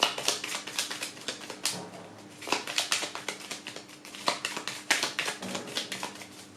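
A deck of tarot cards is cut and handled up close, a rapid run of crisp, papery clicks and taps in uneven bursts.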